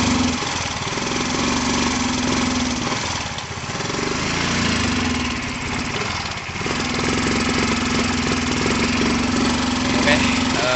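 A motorcycle engine with a fault that stops it taking throttle runs steadily at a loud, buzzing, near idle, surging slightly a few times, with people talking over it.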